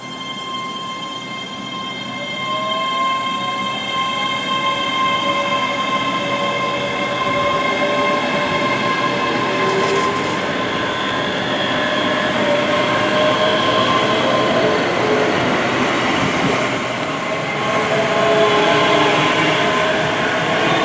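A train runs steadily through Prestonpans station on Scotland's East Coast Main Line, its loud, sustained rumble carrying long tonal whines and faint wheel squeal for the whole stretch, with no voices.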